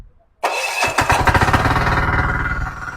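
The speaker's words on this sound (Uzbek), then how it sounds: "traktorimiz stator kaliti bilan zavod bo'ladi, ham ruchnoy tortib zavod qilsalaring bo'ladi" A small tractor engine is started with a starter key: after a brief quiet moment the starter cranks, then the engine catches with loud, close chugging pulses that settle into a rapid, steady idle.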